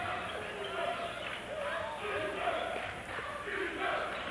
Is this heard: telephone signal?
no